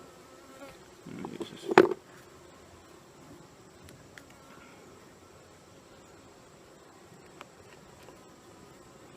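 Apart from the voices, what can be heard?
honey bees buzzing around the beekeeper's head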